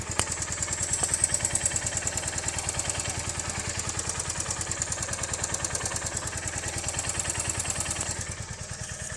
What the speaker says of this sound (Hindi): देखिए इंजन से बिल्कुल भी झरझर फड़फड़ कट का साउंड नहीं आ रहा है।